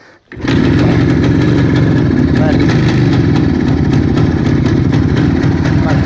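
An IZh Planeta motorcycle engine catches after a brief quiet moment and settles into a loud, steady, close idle that carries on to the end, with a voice faintly under it.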